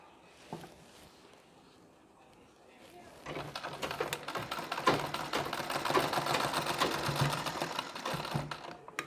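A sewing machine stitches a Nauvari saree, its rapid mechanical chatter starting faint and building into a steady, loud run of stitching.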